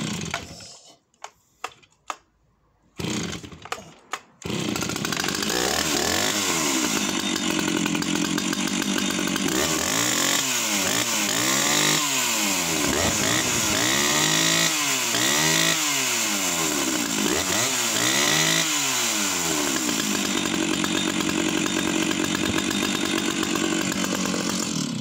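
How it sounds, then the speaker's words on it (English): A 1980s Stihl 056 power saw with a 52mm piston barks through a few short bursts, then runs loud and close, revving up and down in repeated waves and settling into a rough, steady roar. "1980s power saw. And this one running a 52mm piston."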